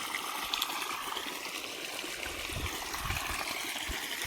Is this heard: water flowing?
yes